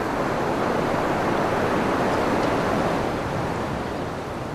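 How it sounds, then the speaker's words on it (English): A set of ocean waves rolls toward the beach and breaks in a continuous, full roar of surf that stays loud and steady, easing slightly toward the end, with no voices. "As a set approaches the beach, where the waves eventually break"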